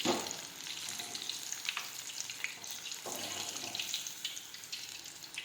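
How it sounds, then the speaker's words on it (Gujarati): Strips of chilli for bhajiya frying in hot oil give a steady, close crackling sizzle that runs evenly throughout with small bursts. "આપણે પટ્ટી છે તે તળી લઈશું."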